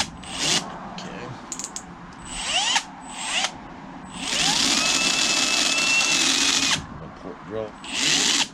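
A power drill bores into a Cadillac 429 engine during an intake exhaust leak repair, several loud whirring bursts of varying length, the longest about two seconds, separated by pauses with handling clatter and a little talk.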